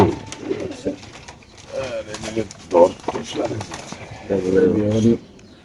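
Racer pigeons coo repeatedly in low, throaty rolling calls, close by in a loft of young birds, while people talk over and between the calls.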